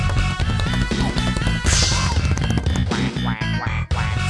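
Rapid quacking from a Pizza Tower voiceover mod plays against loud, busy video game music and effects, with repeated quack calls running through the whole stretch.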